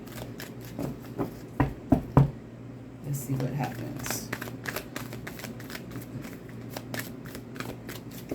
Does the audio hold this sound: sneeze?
no